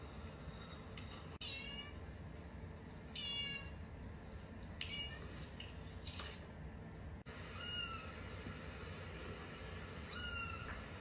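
A husky meows several times, short faint calls scattered over quiet room noise, with a couple of sharp clicks.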